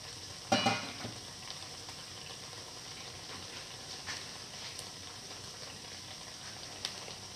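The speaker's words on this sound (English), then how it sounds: "let it fry" Steady, fine sizzling of dates and rice flour fritter batter frying in hot oil, a close continuous crackle with a brief louder burst near the start.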